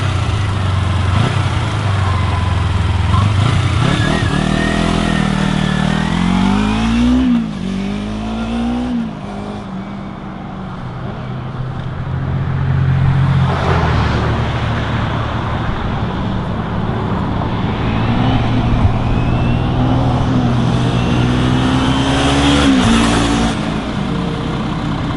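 2008 Kawasaki Ninja 250 motorcycle on a short ride, its engine revving up and down through rising and falling pitch sweeps, with louder bursts of acceleration and steady running in between, heard near and without talking.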